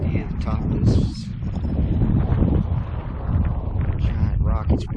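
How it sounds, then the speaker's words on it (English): Strong wind buffets the microphone atop a large granite rock dome in a Texas nature area in the early morning, a steady loud roar with gusts, while a person talks over it. "It's windy as hell too."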